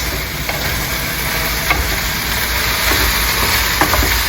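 Shrimp for kung pao fry in a very hot pan, a loud continuous sizzle with faint stirring clicks throughout and no voices.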